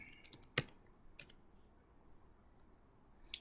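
Keys on a computer keyboard click in a short, sparse burst of sharp, close taps, followed by quiet and one final click, with no talk.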